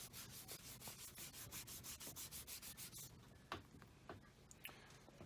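Steady rhythmic rubbing of a cloth or buffing pad working wax polish into top-grain leather, with regular back-and-forth strokes for about three seconds, then slower, scattered rubs and light taps.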